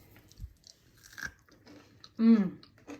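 Someone bites into and chews homemade tortilla chips served with mushroom and vegetable chili, giving a few close, sparse crunches. A short voiced hum follows.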